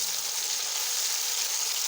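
Chopped onions sizzle in hot ghee in a karahi, a steady, bright frying hiss that runs continuously and close, with no talk over it.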